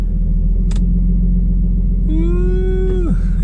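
A Nissan 350Z engine rumbling while driving, a loud, steady low drone throughout, with a sustained tonal whine rising in the last second before dropping away.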